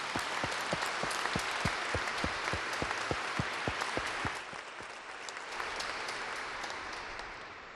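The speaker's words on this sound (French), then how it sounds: "puis là, on s'applaudit" People in an audience clap together at a welcome. Strong rhythmic unison beats give way to looser, softer scattered applause that fades over several seconds.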